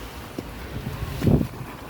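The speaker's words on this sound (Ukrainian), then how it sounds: "і вітер, вітер, шалений вітер" Gusty wind on an Adriatic beach buffets the microphone in low, rumbling bursts, swelling strongest near the end of the short stretch, with no voices.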